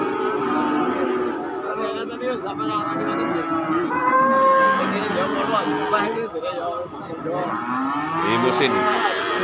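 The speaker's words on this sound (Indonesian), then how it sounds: "Inilah sapi-sapi bakalan ada sapi-sapi limusin." Limousin cattle moo repeatedly at a crowded livestock market in Pati, their low calls rising over a constant hubbub of people chattering nearby.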